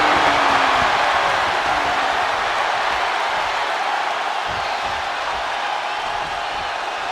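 An arena crowd in the WWE 2K26 wrestling video game cheers and applauds in a broad, continuous roar that fills the space and eases slightly over several seconds.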